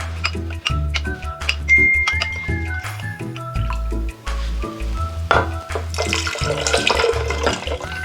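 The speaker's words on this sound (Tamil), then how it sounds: "இதில் தண்ணி ஊற்றி கலக்கி நான் அதில் ஊற்றிடுறேன்." Water is poured into a bowl of leftover blueberry sauce and stirred for lemonade, a splashing, swirling rush under steady background music.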